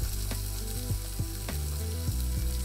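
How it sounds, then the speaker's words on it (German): Thick tuna fillets fry over medium heat in peanut oil in a nonstick pan, a loud continuous sizzle with faint repeated scraping or clicking sounds. "Für den Thunfisch in einer beschichteten Bratpfanne ein bisschen Erdnussöl erhitzen und dann den Thunfisch bei mittlerer Hitze drin anbraten."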